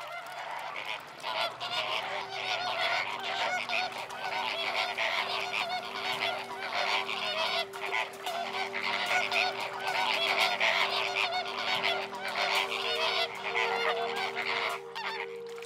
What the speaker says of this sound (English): the incoming flamingos are all going in the same direction